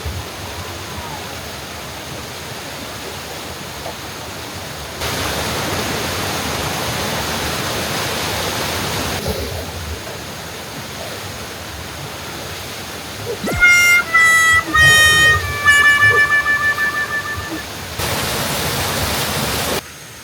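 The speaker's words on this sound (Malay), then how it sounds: "Okay, so kita ke air terjun ni dulu." A waterfall in a forest near a campsite, a steady rushing hiss of falling water that grows louder in stretches, with birds chirping over it partway through.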